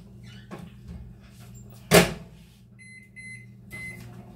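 A microwave oven warming sugar-free syrup: a low steady hum runs throughout, broken by one loud door thunk midway, then a series of high electronic beeps, close up with no talking.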